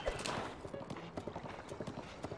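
Horse hooves clip-clopping at a gallop in the video game Breath of the Wild, a rapid, fairly faint rhythmic run of hoofbeats with game sounds and a voice speaking over them.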